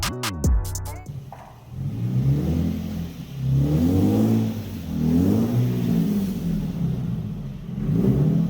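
A Lexus IS200 rolls into a garage with its engine revving in several rising and falling surges, close and fairly loud, after a brief burst of clicks at the start.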